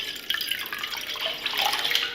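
Water pours into a cooking pot, a short close splashing trickle that runs steadily for about two seconds with no talk.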